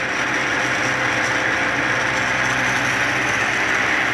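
A CNC machine cuts prototype gear cases, a loud, dense, unbroken machining roar with a steady low drone and hiss, close and continuous without talking.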